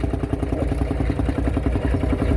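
Engine of a vintage Oliver 80 tractor running in a parade ring at a vintage vehicle show in Cupar, Scotland, a steady low, rhythmic chugging throb held close and loud throughout.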